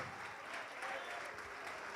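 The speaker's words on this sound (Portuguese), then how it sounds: "Vamos aplaudir mais ao Senhor Jesus por cada vida que está chegando" A church congregation applauds steadily and loudly throughout, a dense sustained clapping with no pauses.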